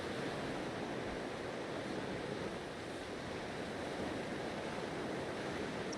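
Ocean waves in the naval sailing video game Naval Action, a steady, loud, broad wash of surf and wind with no breaks and no voices.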